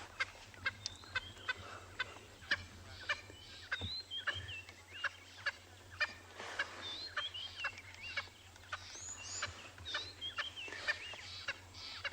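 A bird at Ngala Private Game Reserve during an afternoon safari gives repeated squeaky, gobbling calls, like a plastic chicken dog toy. They come in rapid bursts over a steady low hum, fairly close.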